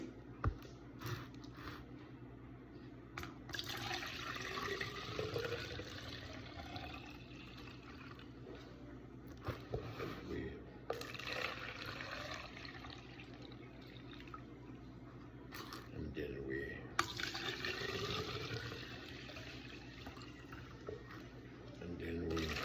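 Gatorade electrolyte drink made from powder being poured into a container, with splashing liquid that starts and stops in several bursts, close and moderately quiet, with faint talking in the background.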